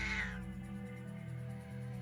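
A cat meows in the mobile story game Romance Club: Love, Sin & Evil, a single short meow near the start followed by a steady low background drone.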